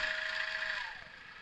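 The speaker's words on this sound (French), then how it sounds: "Alors le moteur là, je ne sais pas si tu le vois, il tourne." The electric motor of a radio-controlled truck runs with a steady high whine that winds down slightly toward the end, close and alone with no talk.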